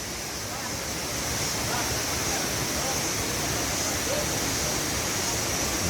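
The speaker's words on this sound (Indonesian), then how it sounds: "Sangat alami air terjun Sendang Gila Senaru" A forest waterfall, Sendang Gile at Senaru in North Lombok, gives a steady, full roar of falling water that holds unbroken and close throughout.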